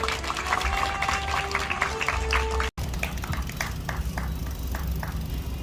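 Crowd applause at an outdoor memorial statue unveiling ceremony by the sea, steady clapping from many hands filling the whole stretch, broken by a brief cut midway, with faint voices mixed in.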